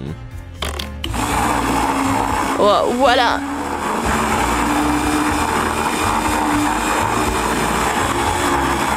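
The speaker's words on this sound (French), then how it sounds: "maintenant, je mets couleur par couleur dans le mixeur et je mélange le tout" An electric blender whirs loudly and steadily as it grinds Skittles candies sorted by color. The motor hums on for several seconds while a voice speaks briefly at the start.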